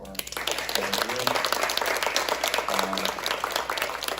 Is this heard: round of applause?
yes